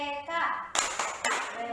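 Third-grade schoolchildren in an Indonesian classroom do the rhythmic PPK clapping chant, with sharp group claps breaking in between lively chanted voices, loud and close.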